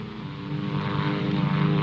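A propeller airplane drones overhead in a steady, continuous hum that grows slightly louder as it passes.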